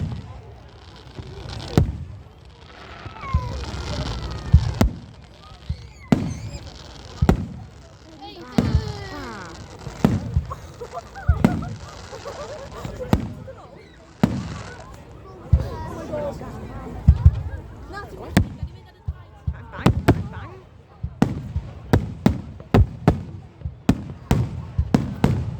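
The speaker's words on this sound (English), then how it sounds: "fireworks are beautiful." Bonfire night fireworks burst overhead in a long irregular series of loud booms and crackles, some in quick clusters, while a crowd with children chatters and calls out throughout.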